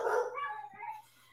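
A dog barks and yips in a quick, fairly close burst of a few high calls, fading within a second or so, with no talking over it.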